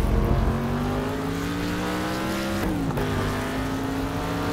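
Race car engine in the driving game Next Car Game on a figure-8 track, revving hard with rising pitch through the gears and a quick shift dip partway, loud and continuous with no voices.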